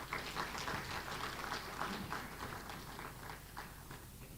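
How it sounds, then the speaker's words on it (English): An audience at a World AIDS Day commemoration gives a round of applause, a faint, scattered patter of many hands clapping that carries on evenly and thins slightly toward the end. "Would you give him a big round of applause, please?"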